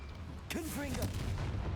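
A Confringo fire spell blasts in Hogwarts Legacy, a sudden booming impact that cuts in partway through and rolls on with crackling rumble, with a voice briefly audible over it.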